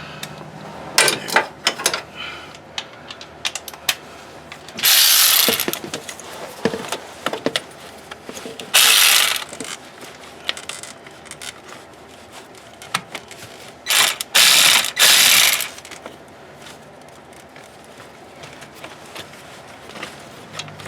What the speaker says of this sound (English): And now there's one more bolt down underneath that ground connection down here. I'm going to use a deep to get to that.